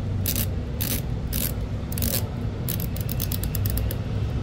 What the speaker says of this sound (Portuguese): Catraca unidirecional.